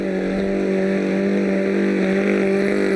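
A Concord trials car engine with a misfire at a sporting trial, a steady loud close drone holding nearly level throughout, with no clear stutter.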